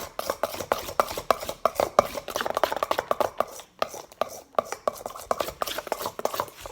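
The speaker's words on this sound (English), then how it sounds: "I'm going to mix this up now." Valentine's Day slime, tinted pink, is stirred and mixed in a container, giving a rapid run of wet clicks and taps in uneven bursts, close and fairly loud, with a brief pause midway.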